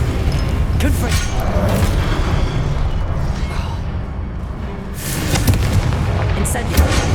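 Confringo blast spells in Hogwarts Legacy go off in loud booming explosions, heavy rumbling impacts layered over constant combat noise, with a fresh burst near the end.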